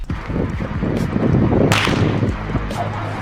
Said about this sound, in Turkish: Bak burada mantar tabancam bile var.